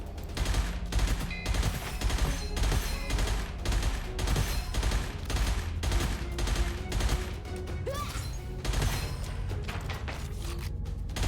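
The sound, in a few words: three-round burst gunfire in a video game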